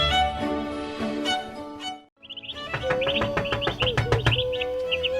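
Birds chirp and tweet in a busy burst of short, high calls, with a brief gap midway before the twittering resumes and continues steadily, fairly close and loud.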